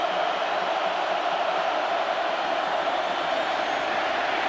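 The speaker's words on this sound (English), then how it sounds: "The crowd's barking." A packed stadium crowd roars and barks at an Ohio State vs Michigan college football game in 2006, making a loud, continuous wall of noise that holds steady throughout with no clear breaks.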